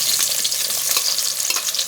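Finely chopped onions fry in hot ghee, giving a loud, steady, close sizzle with a constant bright hiss and crackle and no talking.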